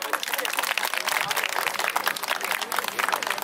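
A crowd claps dense and continuous at an outdoor trot music festival stage in Mungyeong, with audience voices and cheering mixed in throughout.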